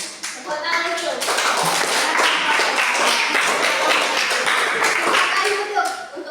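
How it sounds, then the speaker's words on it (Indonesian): A classroom of students claps their hands together in a dense, sustained burst of applause lasting several seconds, fairly close and loud, with children's voices mixed in. "Tepuk tangan dulu."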